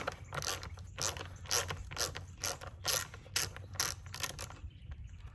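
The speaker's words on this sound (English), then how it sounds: "we're going to remove the rearmost bolt" A ratchet backing out the rearmost bolt on the rear fender of a Yamaha TW200, a close, steady rhythm of about a dozen quick pawl clicks before the cranking stops near the end.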